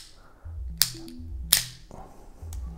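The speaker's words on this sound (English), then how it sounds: "Yeah, it's a double click." The thumb bar of a Tsurinoya Dark Wolf 50 BFS baitcasting reel gives two sharp, separate clicks less than a second apart, close and crisp over a quiet low background hum.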